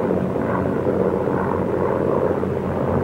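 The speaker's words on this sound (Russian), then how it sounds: "Волна вражеских самолетов рассеяна батарея Пророкова" Enemy propeller warplanes from 1942 drone overhead, a steady, heavy engine roar that holds at constant loudness throughout.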